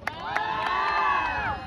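A concert audience in Manitoba, Canada shouts a long, drawn-out, rising and falling "wow" together, loud and close, with a few scattered claps at the start.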